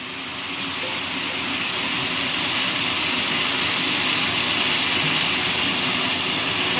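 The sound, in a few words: water poured into chicken curry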